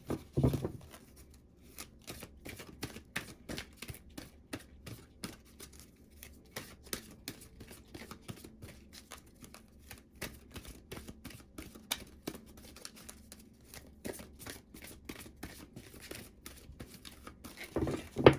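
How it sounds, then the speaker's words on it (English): Tarot cards are shuffled up close in a quiet room, a fast, faint run of riffling clicks and soft slaps repeating steadily, with a couple of louder handling sounds at the start and end. "As I shuffle, guys, please remember that this reading is for entertainment purposes only."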